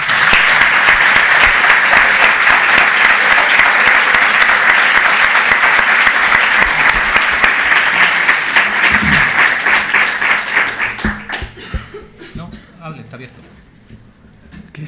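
Loud, sustained applause from a lecture audience greeting a distinguished professor's keynote talk, dense clapping that thins out and fades near the end as voices and room noise take over.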